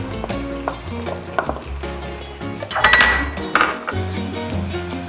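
Tomatoes and vegetables cook in a pan for a chicken breast stuffed roll, with clinks and scrapes of a utensil against the pan over a soft sizzle, set against background music.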